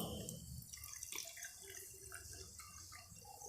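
Hot water is poured into a bowl for a classroom heat experiment, a faint, continuous trickling and splashing with small drips, close and quiet, with no voices.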